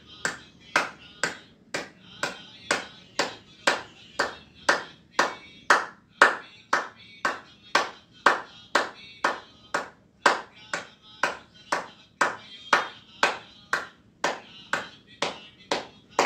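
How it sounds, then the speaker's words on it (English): Hands clapping together in a steady, evenly spaced rhythm, about two claps per second with crisp, sharp, close attacks, continuing without break throughout. "And clap. Both hands together like this."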